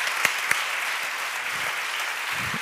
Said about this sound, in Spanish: Pido un fuerte aplauso para el maestro.